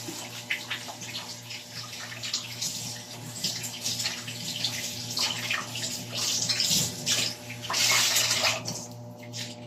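Tap water runs steadily while hands are washed beneath it, a close, continuous splashing stream that swells louder and brighter near the end.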